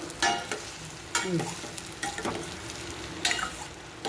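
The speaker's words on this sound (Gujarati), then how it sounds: "હવે આ ઇડલી નાખી દેવાની." Pieces of idli are stirred and fried in a pan, with a soft background sizzle broken by several sharp scraping strokes of a spoon against the pan, close and without speech.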